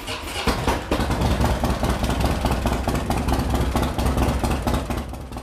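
A motorcycle engine idles just after an S&S Cycle Power Package install, a loud, close, steady lumpy chug that starts with a short bump and then settles into an even rhythm.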